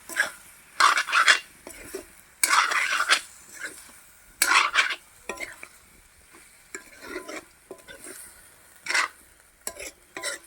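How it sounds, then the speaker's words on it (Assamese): Chicken curry being stirred in a pan, with repeated scraping and stirring strokes in bursts, fairly close, sizzling faintly beneath, no voices. "এতিয়া মই অকণমান লৰাই দিওঁ"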